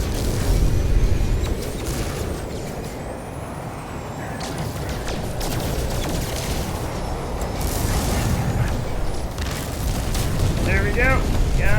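A hostile ship explodes in the space game No Man's Sky, a sustained roaring, rumbling blast with crackling debris and mechanical whooshes that fill the whole stretch, with a few faint electronic chirps near the end.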